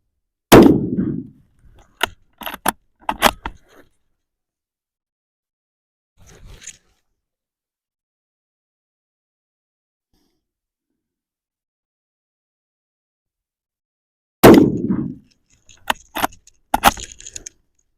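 A rifle fitted with a Skinner scout rail fires three shots during zeroing. Each shot is a sharp loud crack, two about fourteen seconds apart, each followed by brief clinks and handling noises, with quiet between them.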